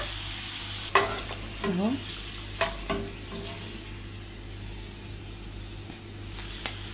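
Potatoes frying golden in hot oil make a continuous loud sizzle with occasional scrapes and clinks of a utensil, and a brief spoken word.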